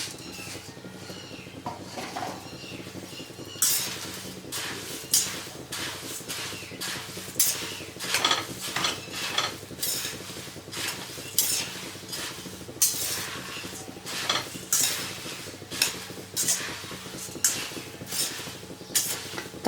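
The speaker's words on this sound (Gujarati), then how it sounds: "તમે એકદમ મીડિયમ આંચે સાંતળશો એટલે એકદમ ક્રિસ્પી બનશે તમારા મમરા" Puffed rice (mamra) is sautéed and stirred in a pan over medium heat, with repeated scraping and clinking strokes of a spoon against the metal in an irregular rhythm, close and moderately loud.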